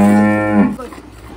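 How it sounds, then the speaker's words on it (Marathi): A cow moos once, a single long low call close by during milking in a village cattle shed, fading into quiet farmyard ambience. "शेण काढून झालं की मी लगेच गाईच्या धारा काढायला बसले"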